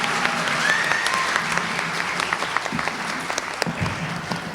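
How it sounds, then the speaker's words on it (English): An audience claps after a Bharatanatyam arangetram dance performance, a dense, steady burst of applause with a few scattered louder claps, fairly close. "One more round of applause."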